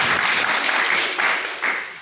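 An indoor audience at a product talk claps steadily, a dense close wash of applause with slight surges before tapering off at the end.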